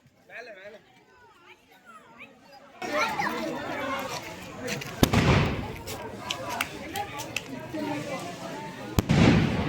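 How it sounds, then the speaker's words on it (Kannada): Boys burst firecrackers outdoors during a Lakshmi mandala puja celebration: sharp, loud bangs go off around the midpoint and again near the end amid crackling, with children chattering and shouting throughout. "ಇಲ್ಲ ಹುಡುಗರೆಲ್ಲ ಹೊಡಿತಾಯಿದ್ರು ಪಟಾಕಿ."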